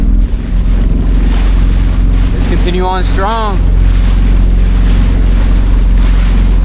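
Jet ski running steadily on the open ocean near Catalina Island, its engine drone loud and constant with wind buffeting the microphone and water rushing, while a person speaks briefly over it.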